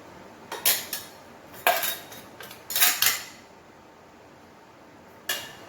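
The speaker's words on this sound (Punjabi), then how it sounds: "ਹੁਣ ਆਪਾਂ ਇਹਨੂੰ ਕੜਾਈ ਦੇ ਵਿੱਚ ਪਾਵਾਂਗੇ" Ground mixture for rabri being put into a kadai, with several sharp metallic clinks and scrapes of a spoon against the pan in irregular clusters over a quiet background, close and without talk.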